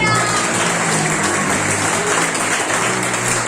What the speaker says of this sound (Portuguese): Quem crê nisso, aplaude o nome dele.